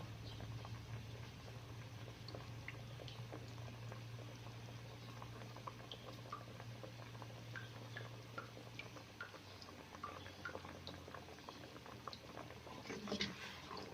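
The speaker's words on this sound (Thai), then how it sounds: "ต้มเคี่ยวก่อนเนาะ" A pork rib and mustard greens curry simmers in a pot, with a steady bubbling patter and scattered small pops. A low hum runs under the first half, and there is no talk.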